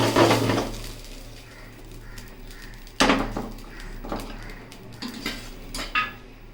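A pan used to fry potatoes and vegetable stalks is taken off the stove. Several sharp metallic clanks and knocks come close and separated by quiet gaps, with lighter rattles between them.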